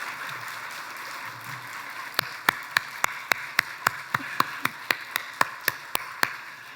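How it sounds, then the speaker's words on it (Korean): During a church service, clapping breaks out for the teachers after a quiet murmuring start: a run of sharp, evenly spaced claps in a brisk rhythm, fairly close and distinct over faint room noise. "다시 한번 우리 선생님들한테 힘찬 박수 한번 부탁드리겠습니다."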